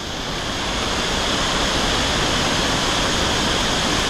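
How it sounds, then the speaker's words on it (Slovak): Bao Dai waterfall near Da Lat, Vietnam, roaring as a steady, dense wash of falling water heard from a distant viewpoint, constant and loud with no voices. "Tento vodopád sa nazýva Bao Dai"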